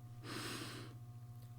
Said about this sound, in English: Let's just take a breath